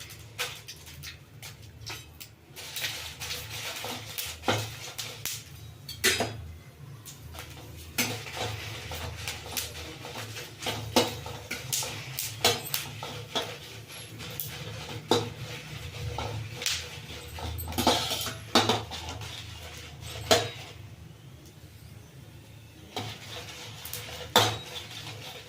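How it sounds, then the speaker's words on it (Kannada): Byadgi chillies roasting in oil in a pan on low heat, with frequent light clinks and scrapes of a utensil against the pan over a soft steady background, close and fairly quiet, no talk. "ಅದಕ್ಕೆ ಸಿಮ್ಮಲ್ಲಿ ಇಟ್ಕೊಂಡು ಎಣ್ಣೆ ಹಾಕ್ಕೊಂಡು ಹುರ್ಕೊಳ್ತಾ ಇದ್ದೀನಿ."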